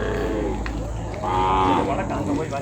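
A Kangeyam bull calf lows at a cattle market, a loud drawn-out moo close by, rising midway and held over a steady background murmur.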